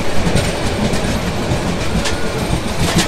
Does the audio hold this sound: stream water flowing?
no